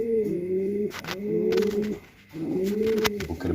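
Short-distance racing pigeons of the 003 line coo close by in repeated throaty phrases, two longer bouts split by a brief pause, with faint clicks and wing or cage noises behind.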